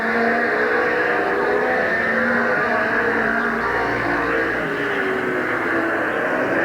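Race cars roar around the 1988 fall classic oval at Midvale Speedway on the final lap, a dense, continuous blend of distant engines droning and wavering without pause.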